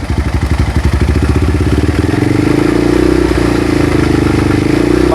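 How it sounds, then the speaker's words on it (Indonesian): A Minerva 200 motorcycle engine runs loud and close in a steady pulsing idle, then rises to a higher, smoother drone as the throttle is opened slightly and held. "Gas sedikit, Jo."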